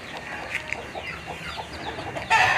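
Several native chickens cluck and chatter softly nearby in scattered bursts, ending with a louder squawk, with no talking.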